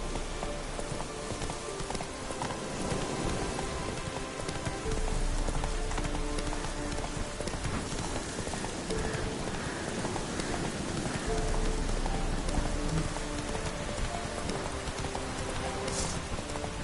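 A horse gallops through steady rain in The Witcher 3, its rhythmic clip-clop hoofbeats running continuously under a constant wash of rainfall, with no voices.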